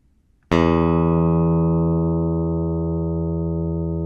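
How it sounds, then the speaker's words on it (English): A single electric guitar note or chord rings out from a sample in a sound demo, striking sharply and then sustaining long and steady with a clean, simple tone that fades only slightly. "and then the electric guitar here"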